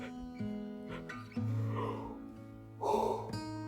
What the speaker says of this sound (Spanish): ahí me vino un bostezo de sueño